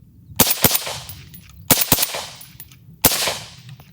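Rifle fire from a PSA JAKL or FN SCAR outdoors, loud sharp shots in three quick groups of two or three with ringing echo tails between bursts.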